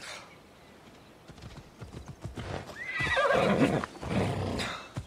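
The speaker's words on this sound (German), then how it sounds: "Man bringe mir mein Pferd." In Assassin's Creed Odyssey, a horse whinnies loudly over clip-clopping hooves that build from scattered steps into a close, rhythmic trot.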